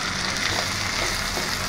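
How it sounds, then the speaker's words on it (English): Ginger garlic paste sizzles steadily in hot oil in a frying pan as it is stirred, a constant close frying hiss with faint scraping. "Added some ginger garlic paste into it and stir it well"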